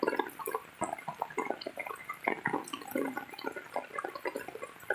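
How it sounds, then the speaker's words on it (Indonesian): Floodwater rushes through a city street intersection after heavy rain, where a taxi and motorcycles have stalled. A steady, churning wash of water with irregular splashes and sloshing surges runs throughout, fairly close, with no talking. "Jalan jadi sungai."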